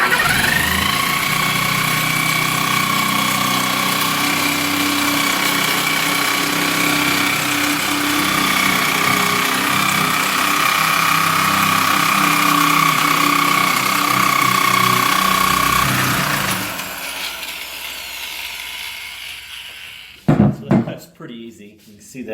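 A cutting blade runs steadily through CycleKart frame tubing in a shop, giving a loud sustained whine with a high ringing tone. It winds down near the end, followed by a few clanks and knocks.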